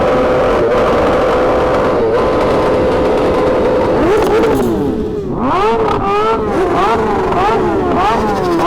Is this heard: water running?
no